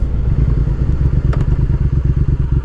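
A 2020 Triumph Speed Twin being ridden, a loud, steady low engine rumble with pulsing exhaust beats and wind noise, heard up close from the rider's position.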